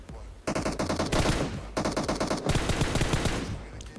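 Automatic gunfire in the video game PUBG Mobile: loud rapid bursts of shots in several long strings separated by brief pauses, close and alone without talk.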